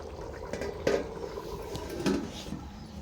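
A metal lid set down on a pot of biryani cooking in a home kitchen, two soft clanks about a second apart over a low steady simmer and faint kitchen bustle.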